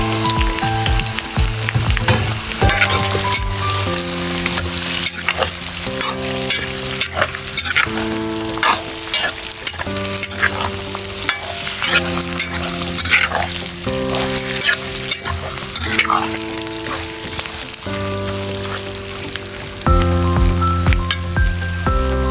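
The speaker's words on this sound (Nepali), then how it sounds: "अब मजाले भुट्नुपर्छ होइन 10 देखि 15 मिनट आनन्दले अब भुट्ने" Local chicken meat fries in hot oil and its own fat in a pan in a Nepali village kitchen, a loud continuous sizzle with stirring scrapes, and music playing over it throughout.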